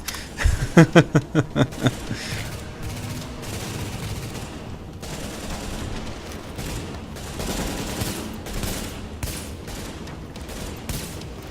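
Gunfire during a boss fight on the Broadway Emporium level of The Division, played on hard mode: a rapid automatic burst rattles out up front, then dense, sustained exchanges of shots and explosions continue loudly throughout.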